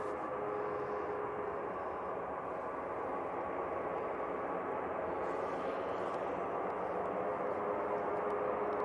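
TUI Boeing 737 airliner at Manchester Airport, a steady broadband jet engine roar heard at a distance, even and unbroken throughout with no voices.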